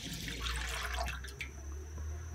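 Milk poured into a kadhai while making talbina, a steady close liquid splash and trickle running for a couple of seconds with a low background hum.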